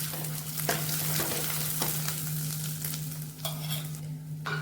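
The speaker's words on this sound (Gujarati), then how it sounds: "મિક્સ કરી લઈએ।" Spiced potato filling for aloo paratha, with dhania-jeera and garam masala, is stirred in a hot pan, a continuous soft sizzle broken by repeated scraping strokes of the spoon, close up with no voices.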